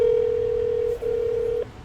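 A telephone line tone while a phone call is being placed: one steady electronic tone, close and fairly loud, with a short break near the end before it stops.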